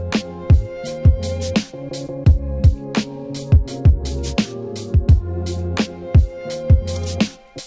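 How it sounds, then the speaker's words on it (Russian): A full hip-hop beat with a panned, widened mix plays loud and alone: punchy booming kicks, crisp snares and hi-hats in a steady groove over a sustained melodic layer. "Бит весь звучит вот так."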